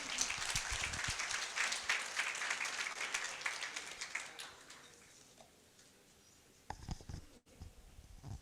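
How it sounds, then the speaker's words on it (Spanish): An audience at a medical lecture on hypothyroidism gives a spell of steady applause that fades out. A few scattered claps and thumps follow. "un aplauso para Liz"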